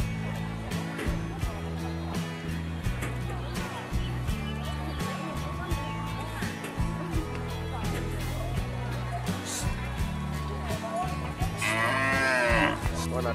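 Water buffalo low and moo amid the bustle of a large livestock market in Vietnam's northwest, with many animals, steady crowd noise and a person talking close by throughout.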